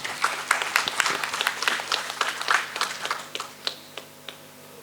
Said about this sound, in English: Another round of applause for Mr. Ravi Sitapati